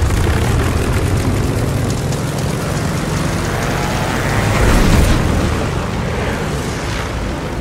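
Propeller aircraft engine roaring at full takeoff power in a Call of Duty Battle of Midway scene, a loud steady drone that swells slightly midway, heard alone without talk.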